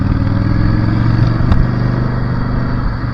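Yamaha V Star cruiser motorcycle riding, its engine a loud, close, continuous low rumble with one brief clatter partway through.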